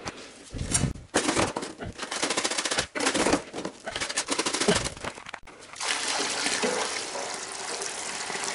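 Water from a bucket is poured into a cement mix being stirred for a concrete cellar floor, giving a loud, splashing, gurgling rush in several bursts, then a steady wash of noise.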